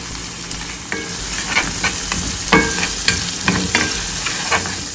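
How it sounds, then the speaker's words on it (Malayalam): Shallots fry in oil in a pan for crab theeyal, with a loud, steady sizzle punctuated by regular clicks and scrapes of a stirring spoon against the pan. "നമുക്ക് അതിലേക്ക് നമ്മുടെ ചുവന്നുള്ളി ഇട്ട് കൊടുക്കാം കേട്ടോ. വേഗം വഴറ്റാം."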